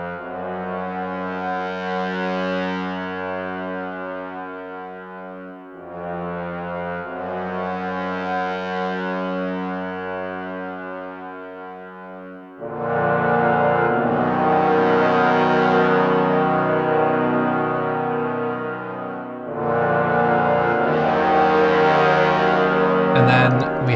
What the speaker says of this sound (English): So this is what the bass trombones sound like.